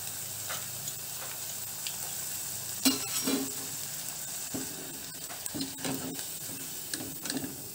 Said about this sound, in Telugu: చక్కగా వేగేయండి చూడండి ఈ విధంగా పీసెస్ అన్ని వేయించుకుందాము